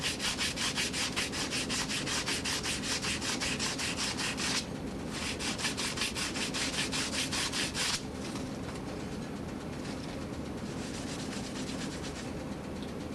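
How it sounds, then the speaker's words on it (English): Wood is sanded by hand with sandpaper in rapid, even back-and-forth strokes, a dense scratchy rasping that pauses briefly twice then continues slightly softer, close up with no voices. "I would use the sandpaper on this"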